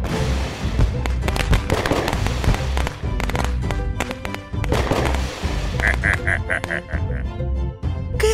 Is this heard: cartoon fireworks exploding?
yes